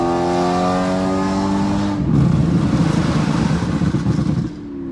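A straight-piped BMW E92 M3 with a Gintani tune roars close by, its engine note holding a steady high-revving tone before shifting into a louder, rougher, raspier burst and then easing off.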